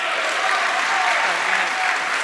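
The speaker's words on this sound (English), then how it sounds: "give him a round of applause" An audience claps for a speaker at an education celebration, a short, dense burst of steady applause from many people.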